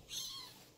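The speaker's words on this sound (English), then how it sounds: "you little creepy kitten. What are you doing?" A kitten gives a single short, faint meow, less than a second long, in a quiet room.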